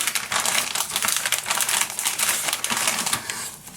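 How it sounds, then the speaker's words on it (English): Adhesive backing being peeled away during assembly of a handmade wedding mini album, giving a steady, close, crinkly tearing rasp that runs unbroken for several seconds. "Let me peel the other one off."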